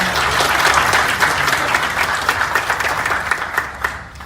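An audience applauds guests at a business partnership signing ceremony in Yeongjong-do, a loud, dense round of clapping that holds steady, then thins toward the end.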